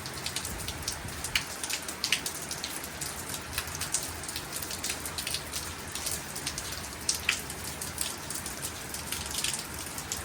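Steady rain dripping from a roof onto hard ground, with scattered louder drips and splashes landing close by over a constant hiss.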